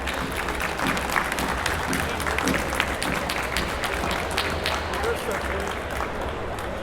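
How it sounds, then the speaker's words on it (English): An audience gives speaker Mary Lynn Mathre a sustained round of applause at a Patients Out of Time event, a thick, steady wash of clapping with a voice talking over it. "one more time, big round of applause, ladies and gentlemen, for Mary Lynn Mathre"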